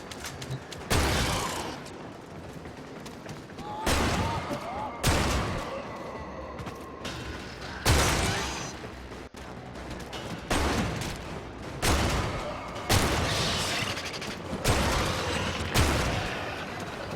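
Rapid gunfire from the video game Warframe comes in repeated loud bursts about every two seconds, each sharp volley fading into a softer tail before the next begins.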